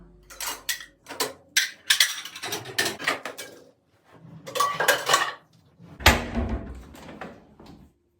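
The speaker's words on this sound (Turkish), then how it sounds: "Soframı yavaş yavaş ben kuruyorum." Plates, pots and cutlery clatter and clink in bursts while a breakfast table is set at home, with short pauses and a heavier knock near the end, close by.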